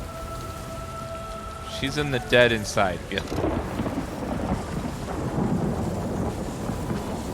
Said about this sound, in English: all this rain means that something's about to happen here